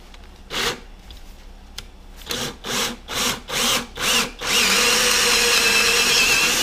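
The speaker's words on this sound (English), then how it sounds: "this auger, you can see it's threaded, it pulls the drill bit right through the box" A power drill whirs in several short pulses, then runs steadily as a threaded auger bit bores through a wooden beehive body, loud and close with no voices.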